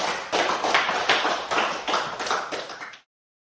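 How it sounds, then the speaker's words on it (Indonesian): A classroom of students claps together in a steady rhythm for about three seconds, then the applause stops abruptly. "Tepuk tangan buat kalian, luar biasa."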